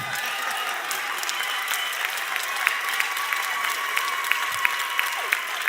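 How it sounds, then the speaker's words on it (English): A graduation ceremony crowd of families breaks into sustained applause and cheering, dense steady clapping with a few sharper claps and faint voices mixed in. "Can we ask you to cheer again?"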